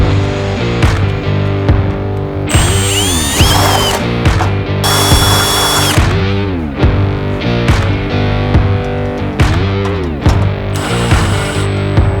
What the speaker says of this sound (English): we'll quickly grab the drill and get stuck into these tray sides